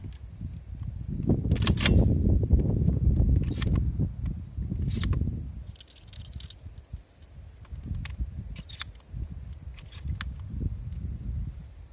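Shells being loaded one after another into an Armsan RS A2 shotgun, heard as a series of sharp, close metallic clicks and snaps over low handling rustle and shuffling, with no talk.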